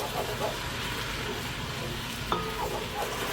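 Minced garlic sizzling with softened onions in a pan, a steady, moderate frying hiss with faint stirring scrapes and a small clatter partway through.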